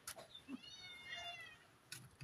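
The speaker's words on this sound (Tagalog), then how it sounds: "Ayan yung mga pusa." Cats meowing nearby, several soft rising and falling mews in a quiet room while they wait to be fed.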